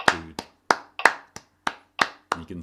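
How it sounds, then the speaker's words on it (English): Hands clap a rhythm, eight or nine crisp, close claps at an even, triplet-like pace, heard alone with no talking. "Now clap as well"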